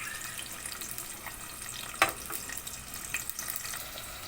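Onions and green chillies frying in hot oil, a continuous soft sizzle with one sharp clatter near the middle and faint stirring scrapes, no talk.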